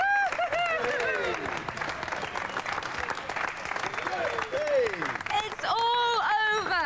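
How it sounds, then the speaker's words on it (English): A studio audience at a televised robot combat show applauds loudly and continuously. The clapping is partly masked by voices and the electronic swoops of the show's sound effects. "Ladies and gentlemen, give them a round of applause."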